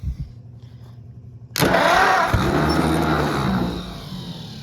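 An Oliver 70 tractor engine cranks on its starter after a quiet moment, then catches into a loud, rough, close rumble that stays steady and full for several seconds before easing slightly.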